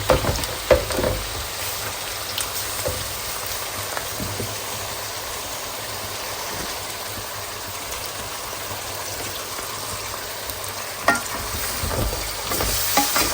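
Meat cooking in a pan, a steady close sizzle running throughout with occasional scraping stirs and clinks, no voices.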